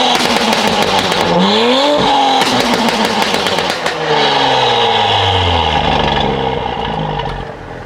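An Audi S5 with an aftermarket exhaust and front resonator delete revs loudly and close, the engine note sweeping up and down through several throttle blips before settling into a sustained roar.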